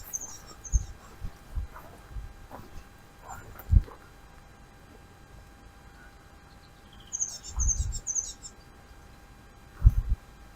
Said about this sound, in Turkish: Evet kuş sesini dinliyorum.